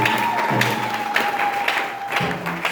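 Applause from a church congregation at a Sunday service, a dense wash of clapping hands sustained throughout, fairly close and loud, with a steady tone and faint voices underneath.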